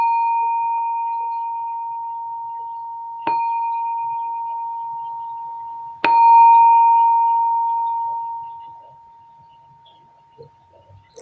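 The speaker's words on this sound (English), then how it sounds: "I'm just going to ring the bell" A meditation bell struck three times during a guided group sitting, each clear ringing tone swelling briefly and sustaining a long, slowly fading shimmer before quiet settles in.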